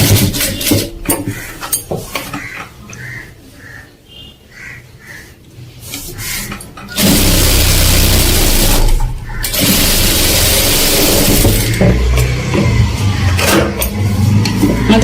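A sewing machine stitching a blouse, with scattered handling and rubbing noises first, then long steady loud runs of motor whir and rapid needle chatter, broken by a brief pause.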